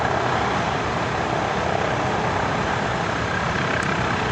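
A helicopter landing gives off a loud, steady rotor and engine roar that fills the whole stretch evenly, close by and unbroken, with no voices.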